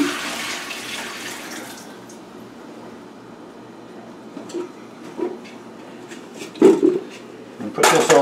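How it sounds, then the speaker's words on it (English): Water from a pot of boiled russet potatoes drained into a sink, a rushing pour that fades into a quieter trickle, followed by scattered clanks of pots and cookware close by. "Now we're going to drain this water."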